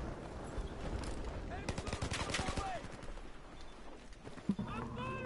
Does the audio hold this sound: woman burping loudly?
no